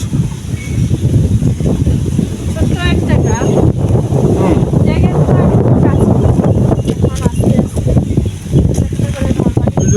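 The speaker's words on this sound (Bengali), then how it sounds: "একেবারে ঠান্ডা কত সুন্দর বাতাস" Strong wind blows across open countryside and buffets the microphone in a loud, continuous low roar that lasts throughout, with faint voices now and then.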